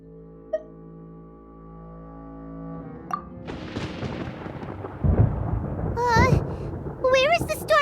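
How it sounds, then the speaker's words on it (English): Thunder rumbles in the video game Genshin Impact, a deep low roll that builds and grows louder toward the end, while a voice speaks over it. "Paimon hears thunder!"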